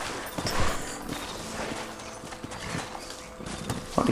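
Horse hooves clip-clop at a walk in the video game Red Dead Redemption, a steady moderate rhythm of light hoof strikes under faint ambient game sound.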